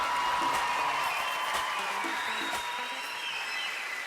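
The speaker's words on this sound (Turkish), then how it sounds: "Alkışlar Saadet için." Studio audience applause during the season opening of the singing competition O Ses Türkiye, a moderate, even wash of clapping with faint cheers and some tonal music underneath, fading slightly.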